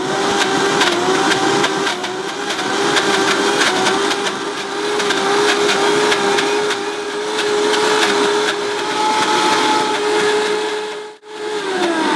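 A Vitamix blender in its dry container grinds almonds into almond butter with a loud, continuous high-speed motor roar and a steady whine, close up, dipping briefly near the end before running on.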